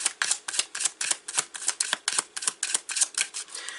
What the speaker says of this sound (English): I'm shuffling like cards are supposed to come out